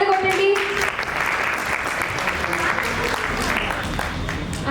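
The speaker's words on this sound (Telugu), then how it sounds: "అందరూ చప్పట్లు కొట్టండి" An audience at a Sunday school children's event claps in a sustained, dense burst of applause, starting just under a brief voice and continuing steadily to the end.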